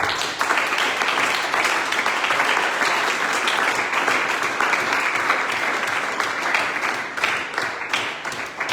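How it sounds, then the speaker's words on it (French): A church congregation applauding loudly, sustained dense clapping that fills the whole stretch at steady volume with faint voices mixed in. "Est-ce que tu peux acclamer très fort?"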